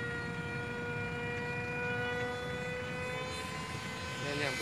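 A Hobbyking MiG-29 foam RC model jet makes a flyby, its steady high-pitched electric ducted-fan whine droning continuously at moderate distance, with a slight rise near the end.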